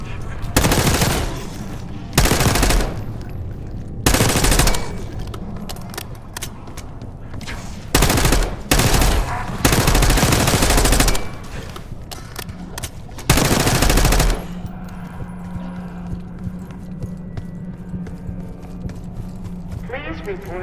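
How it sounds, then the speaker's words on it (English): Machine gun fire rings out in the video game Call of Duty Black Ops 6, loud repeated bursts of rapid automatic shots separated by short pauses, followed by a steady low hum of background noise. "Hearing gunfire? Yeah, sounds like it's coming from one of the lower floors."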